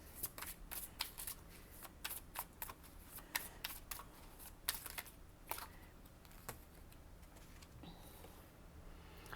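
Tarot cards from a learning deck are handled and shuffled close up, producing quick, irregular riffling clicks and soft card slaps in bursts throughout.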